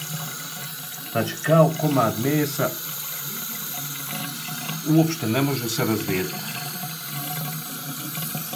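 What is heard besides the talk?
water poured over a blood clot from cupping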